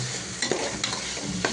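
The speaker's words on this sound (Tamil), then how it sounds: "இப்போ வந்து மூளை குழம்பு பார்த்திங்கன்னா நல்லா கொதிச்சுட்ருக்கு" Mutton kuzhambu curry bubbles and sizzles in a pan under a few soft stirring scrapes, a steady close simmer with no voices.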